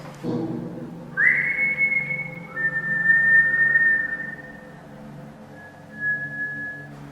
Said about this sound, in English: That whistled.